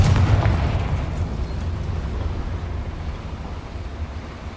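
A Confringo fire-blast spell from Hogwarts Legacy erupts in a loud, deep explosive boom, then rolls away into a long rumbling decay that fades gradually, with no voices present.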